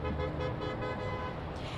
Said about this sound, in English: we heard those horns honking really the entire time. You can probably hear it right now